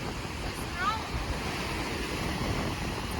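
Strong wind roars and buffets the microphone while surf rushes steadily in the background at Subic Bay, a constant loud wash of noise.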